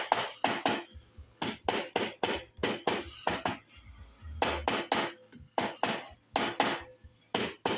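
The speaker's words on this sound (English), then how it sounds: "Now, this is a rubber hammer." Rapid series of sharp, dull knocks in quick bursts, a rubber mallet tapping on parts of a 440 big bore engine top end, close by with brief pauses between groups.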